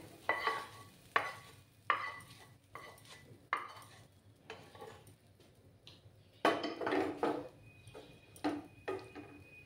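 Spicy dhaba-style potato masala is stirred in a pan: repeated close scraping and knocking strokes come in an uneven rhythm, with a longer burst of busy stirring partway through and a faint sizzle underneath.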